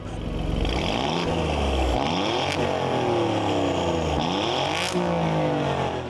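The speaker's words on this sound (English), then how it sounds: "the quad exhaust pipes that give you the most magnificent Italian sound" A 2025 Alfa Romeo Giulia Quadrifoglio with quad exhaust pipes, engine rising and falling through repeated revs and upshifts, loud and close, a continuous snarling exhaust note with sharp shift breaks and no voices.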